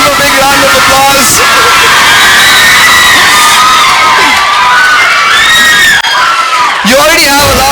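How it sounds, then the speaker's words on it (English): A large crowd of children and adults at a school event cheers and shouts loudly and continuously, with whoops and yells piling on top of each other. "Please give a big round of applause."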